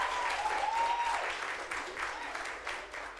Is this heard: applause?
yes